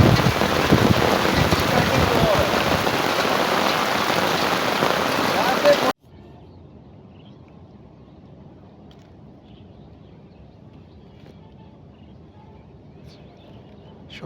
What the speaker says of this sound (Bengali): এক কাবারে সে একটা কঠিন বৃষ্টি।